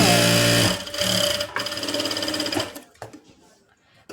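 A sewing machine stitches a blouse band with a loud, fast, steady mechanical whir, stopping near the end as the motor winds down.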